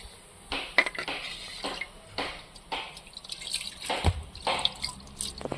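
Small amounts of water trickle and drip into a clay pot around a whole hilsa fish set for steaming, in irregular soft splashes and drips with faint clinks of the pot.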